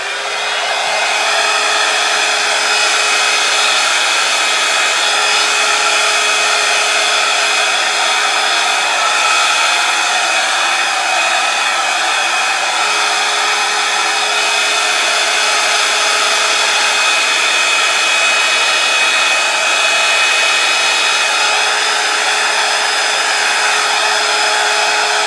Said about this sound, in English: I have put some hair dryers that look like this one in my Amazon store.